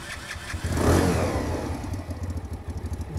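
A budget motorcycle bought new on Amazon cranks with the choke on, a swelling mechanical whir that builds and fades into a quick, rhythmic chugging pulse, close and fairly loud.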